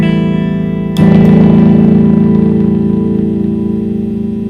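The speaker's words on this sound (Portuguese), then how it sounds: "ele reforça as frequências agudas, de modo que esse chiado vai aparecer de maneira mais evidente" Guitar signal run through an SP Compressor pedal with volume and treble turned up, a sustained distorted note ringing out over a constant high hiss that persists loudly throughout.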